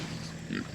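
Pigs grunting on a farm, a short, low snuffling grunt close by with a brief louder swell near the end.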